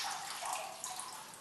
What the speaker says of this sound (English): So just run a little water through here.